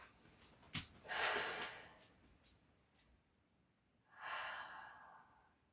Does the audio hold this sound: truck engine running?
no